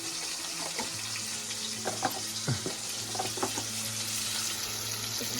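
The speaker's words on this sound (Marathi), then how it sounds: "कालवांची फ्राय आता मस्तपैकी घाटून घेऊ" Clams frying in a pan with homemade village masala, stirred now and then: a steady broad sizzle with scattered scraping clicks of a spoon, close and fairly loud, no voices.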